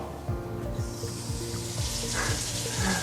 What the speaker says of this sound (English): So wait for it, I'll turn the tap on.